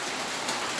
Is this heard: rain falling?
yes